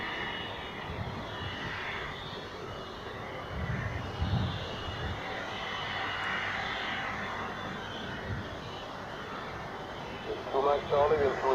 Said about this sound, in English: we have something big coming up for runway 28, an A330 of Swiss, out to Geneva